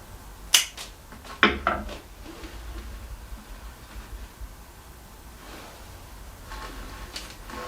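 Garden shears snip white rose stems short for a flower arrangement, two crisp close clicks followed by softer rustling and a few faint cuts in a quiet room.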